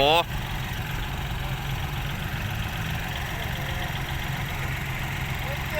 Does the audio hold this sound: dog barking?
no